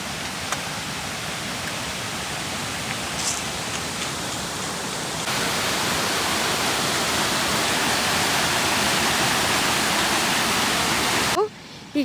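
Small waterfall roaring steadily as broad, close, continuous rushing water that gets louder partway through and cuts off near the end.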